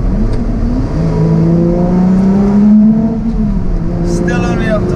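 A car engine revs and pulls up to about 4,000 rpm on tight, twisting hill roads above Monaco, a steady rising drone heard from inside the cabin, loud and close, with a brief higher whine near the end.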